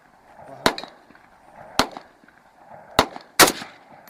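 Four sharp gunshots, spaced unevenly at close range outdoors, loud and crisp with short decays, the last two following close together.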